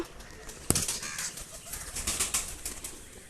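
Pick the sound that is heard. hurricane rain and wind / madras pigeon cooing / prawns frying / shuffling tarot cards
madras pigeon cooing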